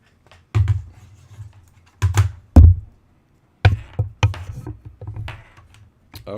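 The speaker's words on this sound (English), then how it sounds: "you might hear that keyboard just a little bit more than normal" Sparse, clacky keystrokes on a mechanical keyboard with blue switches come in small bursts with pauses between them, close and fairly crisp, with no talking.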